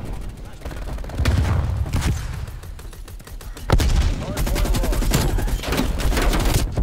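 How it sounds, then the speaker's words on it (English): RPD light machine gun in a Nuketown video game fires in rapid bursts of sharp, loud shots separated by short pauses, with a voice talking over the gunfire. "This is Nuketown. RPD light machine gun."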